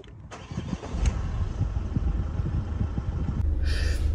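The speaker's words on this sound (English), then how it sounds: "let's get that engine started and see what happens." A car engine cranks with a rapid rhythmic churn of the starter, then catches and settles into a steady low idle, close and fairly quiet, during a DC-DC charger hookup to a lead-acid battery.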